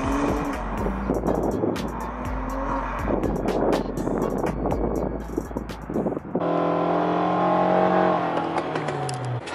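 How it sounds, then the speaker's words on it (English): Wind buffets a microphone outdoors as a loud Ferrari engine starts, rumbles and revs hard, then settles into a rising, throaty roar nearby. "They're gonna start the Ferrari."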